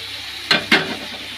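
Bay leaves and onion dropped into hot oil, two quick bursts of sizzle close together over a faint background hiss.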